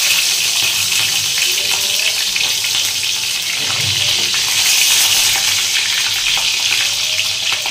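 Tomatoes sizzle and crackle in reheated oil for a Pakistani-style chicken curry, a steady hissing fry heard close, with occasional stirring.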